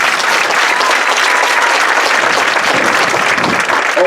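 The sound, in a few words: audience applause at a band meet night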